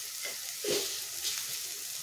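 Fish curry for Bengali macher jhol cooking down in a pan, a quiet steady sizzle with a couple of brief stirring scrapes, no voices.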